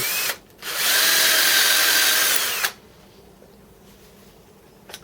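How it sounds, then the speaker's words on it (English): A power drill whines loudly for about two seconds, boring a hole in a metal plate, then stops, leaving a quiet room hum. "I can now drill that out to 5mm and tap it"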